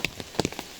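Light rain falls on a mountain path in the Qinling forest, a brief scatter of soft drip taps nearby.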